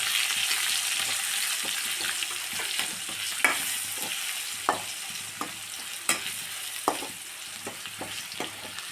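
Okra curry with a spoon of chilli powder gets stirred in a pan, a soft continuous sizzle broken by sharp scraping knocks of the spoon at an irregular pace, close and moderately quiet.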